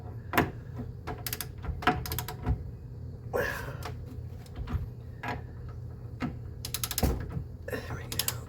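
Wrench ratcheting on the bottom brake caliper bolt of a C4 Corvette: a close series of sharp metallic clicks and creaks in uneven bursts, pausing between strokes, with quiet workshop background.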